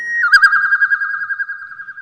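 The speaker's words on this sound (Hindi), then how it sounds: "उसके कानों में कोयल की मधुर आवाज सुनाई दी" A single songbird, identified as a koel, sings a clear sustained whistled call with rapid warbling pulses, loud and close, alone without other sounds.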